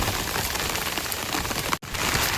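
Steady rain pours down over farmland in Konkan early in the morning, a dense continuous hiss broken only by a brief dropout near the end.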